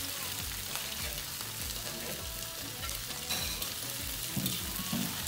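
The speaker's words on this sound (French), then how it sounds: "On va faire revenir notre mélange chili, auquel on va rajouter nos légumes préalablement coupés." A chili mixture and chopped vegetables sauté in a hot pan, giving a steady, close sizzle and crackle with occasional stirring scrapes throughout.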